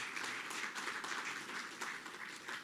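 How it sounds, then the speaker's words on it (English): Quiet, brief applause at the 2020 matric results announcement, a soft scattered patter of clapping hands from a modest audience, heard alone for a couple of seconds. "give Ntsika a big hand of applause"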